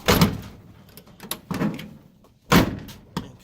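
The sagging driver door of a 1984 Dodge D150 truck being worked open and shut, with several sharp latch clunks and thuds spaced irregularly, close up, and no talk.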